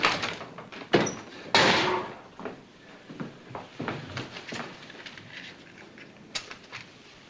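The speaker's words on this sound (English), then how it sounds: "This door's bolted inside. It took several minutes to break down the door." Heavy blows against a bolted wooden door in an old Western setting, a few loud thuds and a slam in the first two seconds followed by scattered knocks, creaks and rattles as the door gives way.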